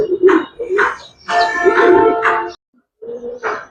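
Giribaz high-flyer pigeons cooing close by in soft, throaty bursts, several calls in a row with a brief pause before a final coo.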